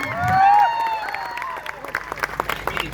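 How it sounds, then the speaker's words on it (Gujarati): A crowd at a tribal community political rally in Gujarat bursts into applause for police officers present. Scattered clapping builds under a fading voice and continues as a steady patter. "એમના માટે જોરદાર આપણે તાળીઓ પાડી લો."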